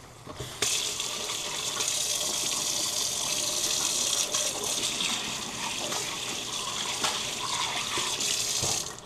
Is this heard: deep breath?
no